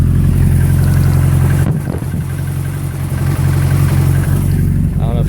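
A running car with a twin plate clutch keeps up a loud, steady engine drone with rattly clatter riding on it, and a brief dip partway through as the clutch is let out.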